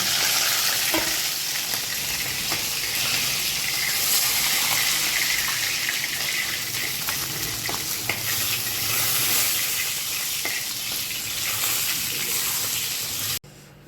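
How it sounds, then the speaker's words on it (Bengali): Rohu fish pieces fry in hot oil in a home kitchen, a loud continuous close sizzle with crackles and light stirring scrapes, then an abrupt cut at the end. "মাছটা ভাজা হয়ে গেছে, এবার তুলে নেব।"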